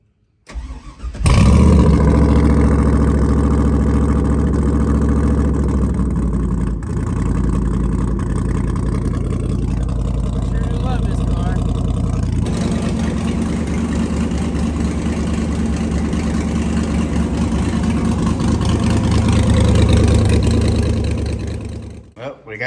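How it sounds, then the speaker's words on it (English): A Ford Crown Victoria with a swapped LS V8 cold-starts with a crank and catch, then settles into a loud, steady, close rumbling idle that holds for about twenty seconds before cutting off. "Let's get a little bit of a cold start going, shall we?"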